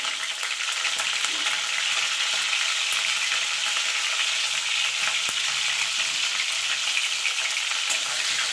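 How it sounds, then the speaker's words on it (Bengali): Salted bitter gourd fries in a pan over low-medium heat, producing a continuous, even sizzle with faint crackles and the occasional stir, close and steady with no voices. "দিয়ে এটাকে আমি লো টু মিডিয়ামে রেখে ভালো করে ভেজে নেব"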